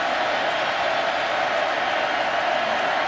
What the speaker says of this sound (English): Crowd noise bothering Boone